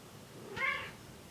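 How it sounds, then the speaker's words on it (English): A female house cat lets out a single close meow in the middle of the moment, rising and falling briefly over a quiet room with no one talking. "Excuse my cat, she's protesting."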